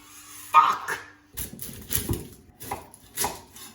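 White onions are chopped with a large kitchen knife, several sharp knocks against the board in an uneven rhythm, close and fairly loud, with a voice speaking at times.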